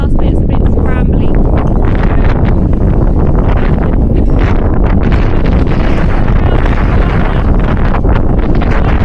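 Strong coastal wind near the boat caves on the NC500 route in northern Scotland, buffeting the microphone in a loud, constant roar with gusting surges that swamp everything else.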